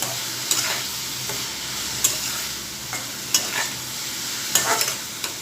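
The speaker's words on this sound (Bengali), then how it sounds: "এ পর্যায়ে আমি বেশ কিছুটা পেঁয়াজ কুচি দিয়ে দিব এখন নেড়ে চেড়ে দিচ্ছি" A spatula stirs a pointed gourd (potol) fry with garlic and chopped onion in a pan, with soft frying sizzle under a string of sharp scraping clicks spaced irregularly through the clip, close and with no talking.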